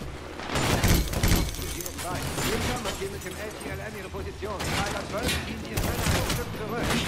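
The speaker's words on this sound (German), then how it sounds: "Da drüben sind schon Schüsse." Rapid gunfire in Medal of Honor Warfighter rattling continuously in the background, dense bursts of shots mixed with game noise and a voice.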